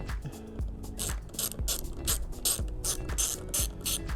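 Close, quick clicking of a ratchet wrench loosening a steering wheel bolt on a Saturn Sky, with a fast, even run of repeated pawl clicks and no voices.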